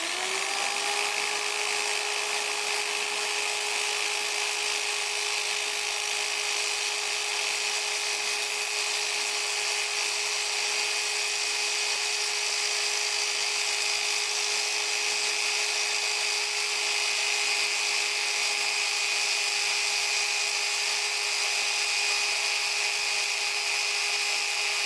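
A homemade drill attachment cuts metal, producing a steady, loud, high-pitched whine that holds a constant tone throughout without any break.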